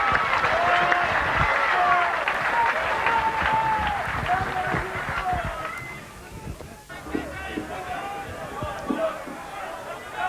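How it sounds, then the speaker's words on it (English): Supporters at a 1989 Fulham versus Wigan rugby league match applaud in a sustained round of clapping at Hendon Football ground, with a commentator talking over it before the applause thins out. "Fulham will go off to a great round of applause from their supporters."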